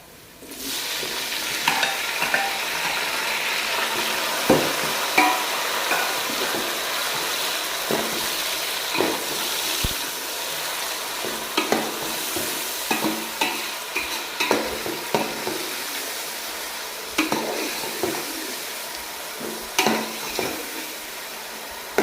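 Dark-browned onions and tomatoes fry in a pan for a masala fish curry, a steady close sizzle broken by repeated scraping stirs every second or two, with no talk.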